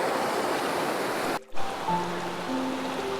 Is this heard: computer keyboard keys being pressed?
no